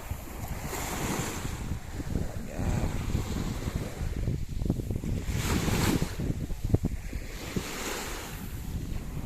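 Sea waves wash onto a tropical beach lot while steady wind buffets the microphone, the surf rising and falling in continuous rolling swells; someone speaks briefly near the end.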